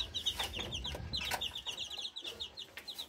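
Twelve-day-old chicks, a Miner blue cross with McLean and pumpkin, cheep and peep in high rapid chirps while crowded in a small cage, close and lively with faint shuffling underneath.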